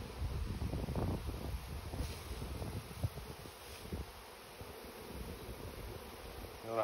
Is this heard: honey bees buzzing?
yes